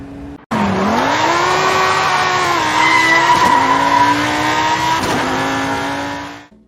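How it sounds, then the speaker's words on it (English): Gran Turismo 7 car drifting through a time trial at Dragontail, a loud continuous tire squeal with a high screeching pitch that shifts as the car slides, over steady engine drone. "we're drifting our way to 2 million credits on this latest time trial on GT7."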